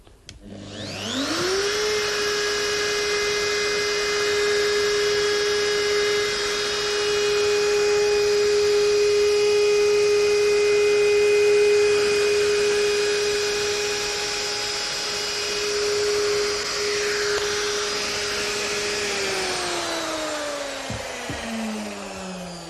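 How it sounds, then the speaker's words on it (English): A handheld router fitted with a roller bearing cutter spins up and trims laminate, a loud steady high-pitched whine holding for about twenty seconds before winding down at the end. "starting with laminate trimming. I'm using a roller bearing cutter"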